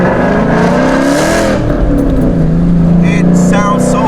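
A stock Ford Boss 302 engine revs hard at full throttle, a loud, close roar with pitch climbing and shifting as it accelerates, while someone talks over it.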